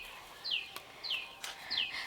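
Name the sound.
birds singing near a drumstick tree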